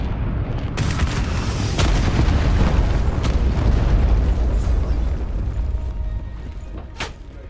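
Hellstorm missile strike in Call of Duty Black Ops 4: a long rolling series of heavy, close explosions with sharp cracking impacts rising to a sustained roar, then thinning out as a few last bangs ring out.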